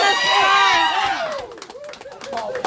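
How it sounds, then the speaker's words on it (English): A crowd at a women's bowling match yells and cheers in loud overlapping shouts that rise at the start and then trail off into scattered calls and claps, all close and lively. "she's got a crowd behind her"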